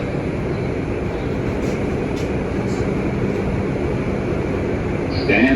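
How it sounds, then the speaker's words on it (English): Manhattan-bound 2 subway train at Nereid Avenue, a steady loud rumble of wheels and car noise with a high tonal hum, rising slightly at the end; voices are faintly present beneath it. "a Manhattan-bound 2 train. The next stop is Nereid Avenue"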